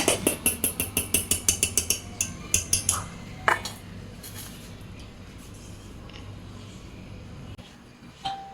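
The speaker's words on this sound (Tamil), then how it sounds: "ரொம்ப அழுத்தம் கொடுக்காம லைட்டாக அப்படி கலக்கி விட்டுருங்க." A utensil knocks rapidly against a bowl while eggless wheat cake batter is mixed, a quick run of loud clicks that slows to a few taps before a quieter, softer stretch of gentle stirring.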